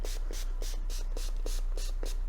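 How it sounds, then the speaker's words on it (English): Cleaner is sprayed liberally onto a K&N air filter from a 2010 Buick LaCrosse, heard as a series of about eight short, evenly spaced hissing spray pumps, close and fairly quiet over a low hum. "We're just going to spray this"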